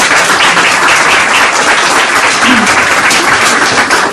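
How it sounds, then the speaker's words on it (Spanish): An audience at a medical conference session gives the speaking doctors a dense, steady round of loud applause, close and continuous for several seconds, with no talking. "un aplauso para los ponentes"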